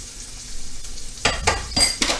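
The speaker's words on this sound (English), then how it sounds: "So I got both pans going on. Both pans are getting onioned." Onions fry in two pans while linguine is stirred, bright sizzling hiss under repeated scraping stir strokes, close and fairly loud, no talk.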